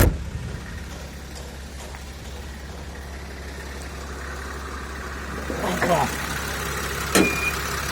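A Mercedes-Benz Sprinter van engine idles quietly and evenly, a steady low hum held throughout, with a few brief, faint clatters near the end.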